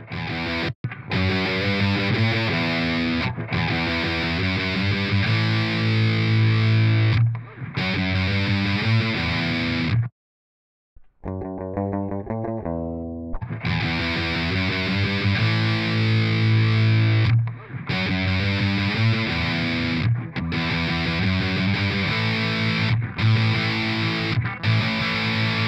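Scooped high-gain distorted electric guitar played through amp-modelling software, with boosted bass and treble and cut mids, chugging loud and continuous riffs with brief stops and a short quieter break partway through, no talking.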